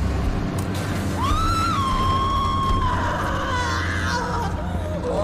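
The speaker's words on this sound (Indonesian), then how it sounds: "saat dia berteriak tersangkut di mesin penggiling" Mommy Long Legs, the Poppy Playtime creature, screams while caught in a grinder: a long, wavering, high-pitched shriek that rises and bends over a steady mechanical drone, loud and sustained for several seconds.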